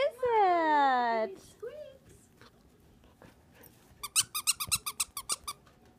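A puppy with a new toy gives a long high squeaky whine, then a quick run of short squeaks, close and fairly loud with quiet gaps between.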